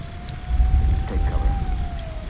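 Steady rain patters through Fallout 4 game ambience, with a close, dense rumble of drops and a faint sustained tone running underneath.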